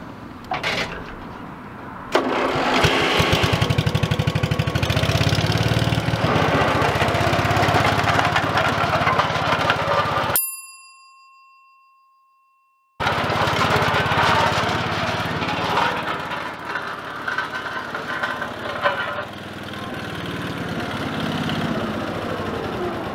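A farm compactor's engine runs loud and steady at close range, its rumble broken once by a short gap filled with a pure electronic tone before it resumes. No one speaks.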